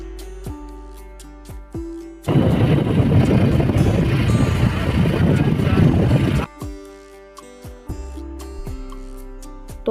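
Wind roars hard against the microphone as a motorbike carries its riders home from the hospital, a loud rushing burst of several seconds between quieter stretches of ticking, clicking handling sounds.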